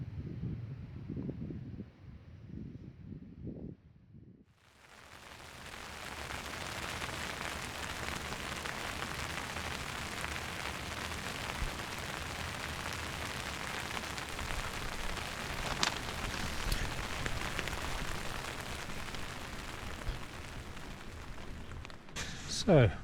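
Rain falls steadily on a surface outdoors at high altitude on a fishing trip. It starts after a brief muffled stretch and then holds a dense, continuous patter for nearly twenty seconds.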